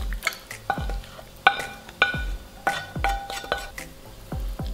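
A spoon stirs a filling with sun-dried tomatoes in a bowl, giving a close, irregular series of clinks and scrapes against the bowl, about two strikes a second with soft mixing sounds between.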